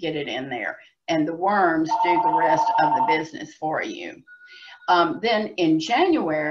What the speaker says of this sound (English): I'm sorry about the phone.